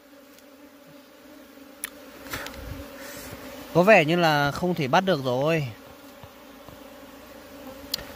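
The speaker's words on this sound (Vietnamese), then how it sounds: "Đây, chỗ này có ong đực." Honey bees, including drones, buzz around a wild honey nest under a road in mountain forest, a wavering hum rising for a couple of seconds as someone talks nearby.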